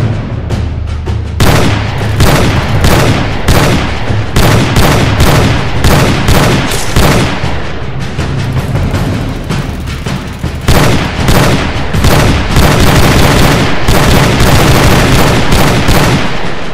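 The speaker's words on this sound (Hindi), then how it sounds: "दुश्मनों को देखो और फायर करो" Rapid gunfire from a soldier's rifle aimed at enemies in a battle scene, a loud dense run of shots and booms crowding closely together throughout, with heavy low rumble and no pauses.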